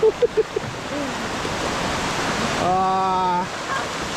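Tad Sae waterfall near Luang Prabang, a steady broadband rush of falling water, with brief voices at the start and a short tonal, whistle-like sound rising over the roar midway.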